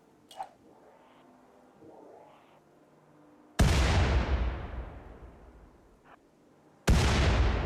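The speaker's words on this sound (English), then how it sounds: "the grenade's blast radius allows us to destroy the turret without putting Jake himself into the line of fire" Two heavy grenade blasts in the Rimworld video game destroy a turret. Each is a sudden loud boom with a long rumbling decay, spaced a few seconds apart after a quiet stretch.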